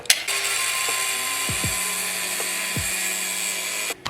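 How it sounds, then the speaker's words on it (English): A power tool cuts around an aluminum adapter plate for a 2JZ engine swap, a loud continuous high-pitched whine held steadily for about four seconds, with brief pitch dips as the blade bites, close up and without talk. "we just go around and cut it, make sure it's good."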